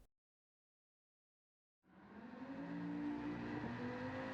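In Gran Turismo 7, a Dodge Viper Gr.4 drifting at Suzuka: after nearly two seconds of silence, a steady, droning engine roar sets in and holds at a sustained level.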